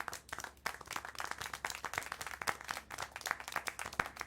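Hand clapping inside the Syberia: The World Before game, a run of sharp distinct claps at a quick uneven pace over a quiet background, moderately close and fairly soft.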